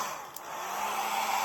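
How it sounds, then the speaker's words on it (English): A hair dryer blows steadily on acrylic pour paint, a continuous close, airy whoosh that rises slightly in loudness over its short span. "you lift the hair dryer higher up a little bit"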